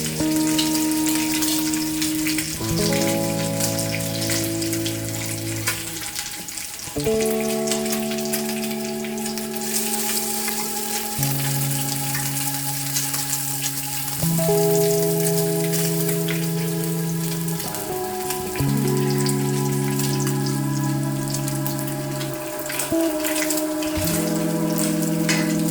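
Bacon sizzles steadily in a pan that will hold trout, a continuous crackling hiss running the whole time beneath a stepping melodic background tune.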